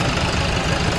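A tractor engine works in first gear at raised revs on sandy ground, a loud, close, steady low rumble with a fast throbbing pulse and no talk over it.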